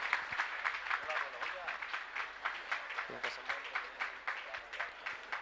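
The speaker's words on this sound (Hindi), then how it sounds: "अब तो कम से कम ताली अच्छे से बजाइए" An audience at a Jain religious gathering claps steadily, with dense, sustained applause running through the whole stretch and a faint voice now and then beneath it.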